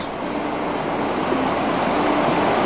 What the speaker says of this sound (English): this is the rapids at the campsite.